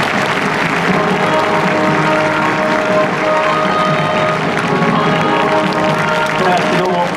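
A large racecourse crowd at Japan Cup day applauds jockey Fukunaga at Contrail's retirement ceremony, a steady, dense wash of clapping sustained throughout, with voices mixed in underneath.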